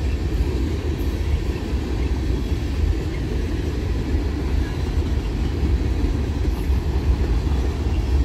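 A steady low rumble of a passing empty CSX garbage train rolls on without break, loud and continuous, with no voices over it.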